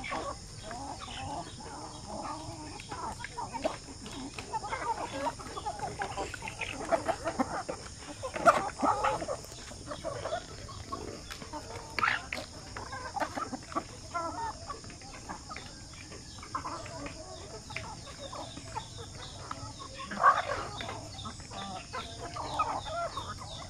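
Native hens cluck and murmur in an open range area, scattered soft calls and occasional louder clucks over a quiet outdoor background.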